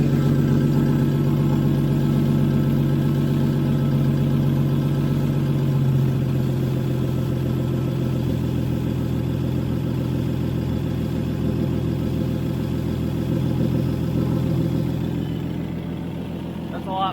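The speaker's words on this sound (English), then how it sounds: "Idle's pretty high on this" Toyota FJ40 Land Cruiser engine idling high, a steady loud drone with a strong low hum that holds for the full stretch and drops slightly in pitch partway through, easing off near the end.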